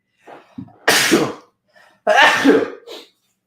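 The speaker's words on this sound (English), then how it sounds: "I got to sneeze." Two sharp, loud sneezes about a second apart, each with a quick breathy intake before it and a short tail after, with no talking.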